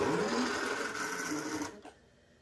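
A dense, buzzing brushed electric motor in a Redcat RC lowrider car whines steadily at slow speed, then cuts off abruptly, leaving a faint rattle and near silence.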